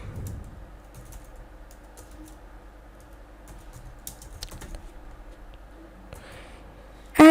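Keys clicking on a computer keyboard while a role name is typed into Discord server settings, a steady run of soft, quiet taps that ends in a sharp burst.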